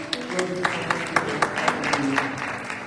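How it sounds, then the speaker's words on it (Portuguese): A church congregation at a Portuguese-language evening service applauding in a steady rhythmic clap, many hands together in a reverberant room, with a voice and faint music running underneath. "Você pode aplaudir o nome do Senhor Jesus."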